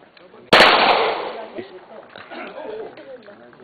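A single loud, sharp shot from an MP5 submachine gun fired at a target, close by with a short decaying echo, then people talking.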